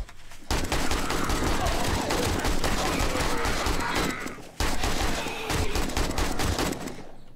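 Sustained rapid gunfire in the 7 Days to Die zombie game, dense overlapping shots roaring almost continuously for several seconds with a brief break midway, loud and close.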